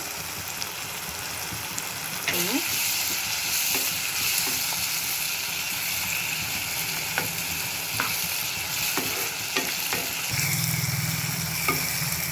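Tomato and turmeric sautéing in a pan for a watermelon-rind kootu, a continuous sizzle with scattered stirring taps and scrapes, close and steady with no voices.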